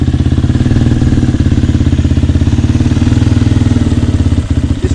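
A Suzuki DRZ250 dirt bike with a Mikuni flat-slide carburetor runs steadily. The single-cylinder engine throbs in a loud, close, even pulse for the whole stretch.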